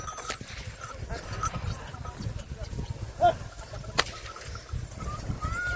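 Bulls run across an open turmeric field, their hooves thudding in an uneven, fairly faint patter under a busy outdoor background with a couple of sharper knocks.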